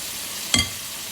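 Hot water cornbread batter is dropped into hot oil in a skillet, giving a short, sharp burst of sizzling over a steady background hiss of frying.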